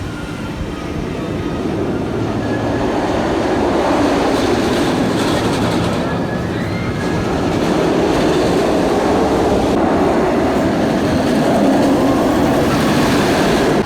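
The Cobra, a B&M roller coaster at Busch Gardens Tampa, roars along its track with a loud, continuous rumble and rushing wind that rises and falls across the ride.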